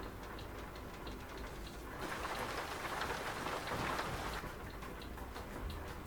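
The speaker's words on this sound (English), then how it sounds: "Listen to the rain." Heavy rain drums on a truck in Euro Truck Simulator 2, a steady, dense patter on metal surfaces that swells louder midway, with no voices.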